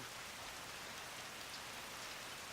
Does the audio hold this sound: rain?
yes